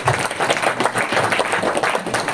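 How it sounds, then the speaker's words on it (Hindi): An audience applauds steadily, dense overlapping claps filling the whole stretch at a fairly loud, even level with no talking. "चलो जिन्होंने लिया उनके लिए तालियां बजाइए।"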